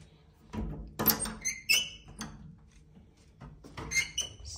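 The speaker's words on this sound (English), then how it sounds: "This is the door." A hotel room door at a four-star Parador in Guadalupe, Cáceres, Spain opens with a few close squeaks and clunks spread over several seconds, without talk.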